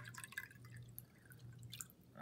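Water poured from one container back into another during a classroom capacity lesson, faint splashing and dripping with soft trickles heard close by over a low background hum.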